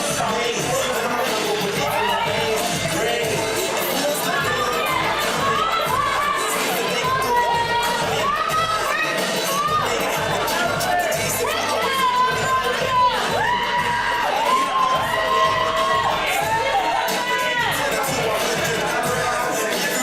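An audience at a college presentation evening cheers, whoops and claps continuously for departing third-year students, a loud, dense crowd roar with shouting voices throughout.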